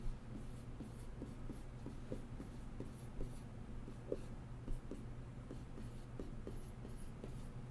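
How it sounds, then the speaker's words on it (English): Pen or pencil writing equations by hand on paper: a steady run of short scratchy strokes with rhythmic taps, close and fairly quiet over a low background hum, no talking. "Now I'm just writing the equal sign on that."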